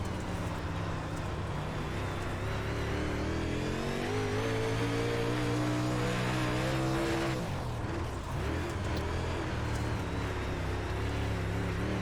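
UMP modified race car engines at Lernerville Speedway dirt track in iRacing, a loud continuous high-revving engine drone with rising and falling pitch as the cars accelerate and lift through corners, no talking.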